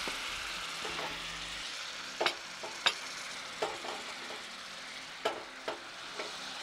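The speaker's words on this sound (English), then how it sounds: "I'm going to deglaze one more time. And deglaze just to loosen up all that... those juices on the..." Pan juices under swordfish sizzle as the pan is deglazed and stirred, with a steady hiss broken by sharp spoon scrapes and taps against the pan, close by and with no talk.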